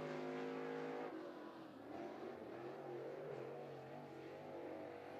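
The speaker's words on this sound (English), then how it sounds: "Next car out on the Speedway to qualify, he's driving the number 51 machine." A crate late model race car on an oval speedway during a qualifying lap, engine holding a steady loud drone with a pitch dip and recovery as it works through a turn, no talk over it.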